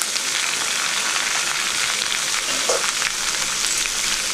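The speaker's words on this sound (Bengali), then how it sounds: "কেটে রাখা পেঁপে আলু কুমড়ো কড়াইয়ের মধ্যে দিয়ে দিলাম" Chopped papaya, potato and pumpkin frying in a kadai, giving off a loud, dense, unbroken hiss of hot oil heard close up, with a brief stirring clink partway through.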